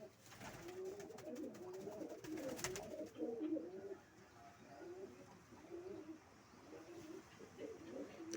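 Pigeons coo in low, throaty, repeated phrases, fairly faint, with a bit of flapping and background noise.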